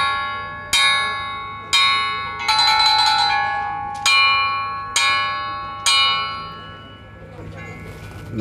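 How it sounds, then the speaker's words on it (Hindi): A bell rings out in six or seven clear, resonant strikes about a second apart, each ringing tone decaying before the next, with faint room noise between. "अब ये घंटी की आवाज़ सुनी है ना"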